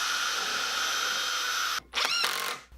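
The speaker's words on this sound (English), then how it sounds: "I also like to pre-drill these holes to prevent cracking, but it's not required." Power drill pre-drilling holes in a wooden furniture frame, a loud steady whine for almost two seconds, a brief stop, then a second short burst, close up with no speech.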